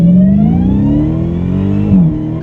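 A Dodge Challenger SRT Demon 170 engine, during break-in, rises steadily in pitch through a loud, close, moderate throttle pull, then drops sharply as the throttle closes.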